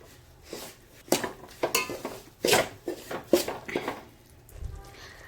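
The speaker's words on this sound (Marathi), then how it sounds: "आता मी याच तुपामध्ये रवा घालून घेणार आहे बंद आचेवर तुपामध्ये रवा आपण एक पाच मिनटं भाजून घेणार आहोत" Semolina stirred in ghee in a pan over low heat: a run of irregular scraping and clinking strokes of a spoon against the metal pan, close and fairly loud, with only a faint sizzle beneath.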